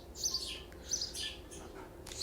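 Birds chirp outdoors, heard from indoors through open windows, in several short, bright bursts at a moderate distance over a steady low room hum.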